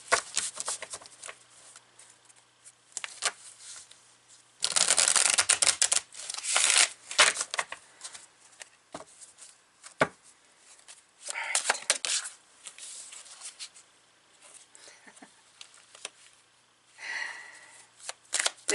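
Tarot cards shuffled from a deck close by, with bursts of riffling and rustling that come and go, loudest in the middle, broken up by soft taps and pauses.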